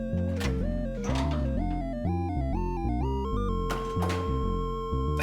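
Chiptune-style music from the video game Resident Evil 0, a continuous melody of synthesized tones over a pulsing bass line with occasional bright noisy bursts, clear and unbroken with no talking.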